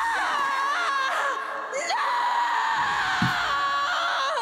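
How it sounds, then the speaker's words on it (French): A female anime character from Fairy Tail screams in a sustained, loud, high-pitched cry, with the pitch wavering and rising across the clip. Battle noise and effects sit underneath, and a brief low thud lands near the end. "Mais pourquoi elle crie, frère?"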